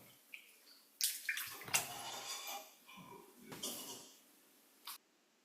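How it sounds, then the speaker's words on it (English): Fresh vegetables — peppers, asparagus and green beans — are stirred by hand in a bowl of water with baking soda, giving irregular close sloshes and splashes in several bursts, with no talking. "now we just finished mixing all these vegetables properly in the water and baking soda"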